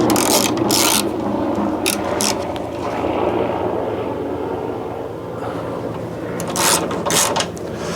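A ratchet wrench tightens a bolt while a car headlight is fitted, giving several bursts of fast clicking over a steady background of mechanical noise, with quieter gaps between the bursts.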